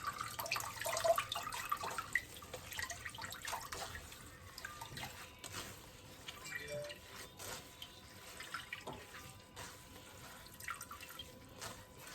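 Water drips and trickles from washed fish left to drain, a quiet irregular run of small drops and splashes with no talk over it.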